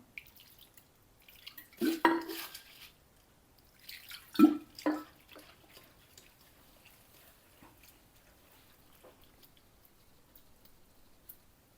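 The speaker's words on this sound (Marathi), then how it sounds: "मी आता पोहे धुवून घेते" Flattened rice (poha) is rinsed in water in a home kitchen: two brief splashing, sloshing bursts a couple of seconds apart, followed by quieter drips and small water sounds.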